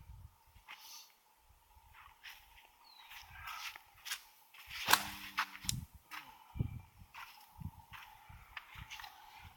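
Rocks are thrown at high speed outdoors, heard as faint scattered snaps and whooshes, with one sharper crack near the middle, among scuffing footsteps and quiet background noise.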